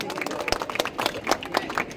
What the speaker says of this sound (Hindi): सऊद भाई के लिए जोरदार तालियां होना चाहिए।